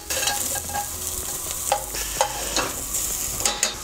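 Thai curry paste frying in a hot pan while being stirred and broken up, a crackling sizzle under repeated sharp scrapes and clacks of a utensil against the pan, close and fairly loud.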